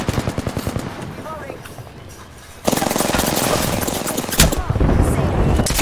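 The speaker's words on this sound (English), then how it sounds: "They threw an airstrike on me." Rapid automatic fire in the battle royale shooter Apex Legends, close bursts of shots, then a louder dense wall of blasts and rumble from an airstrike, with players talking over it.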